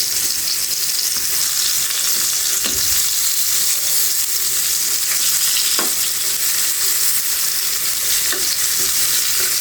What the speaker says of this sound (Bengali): দেখো বন্ধুরা কত সুন্দর একটা পাশ ভাজা হয়ে গেছে আর একটা পাশ আমি উল্টে দিচ্ছি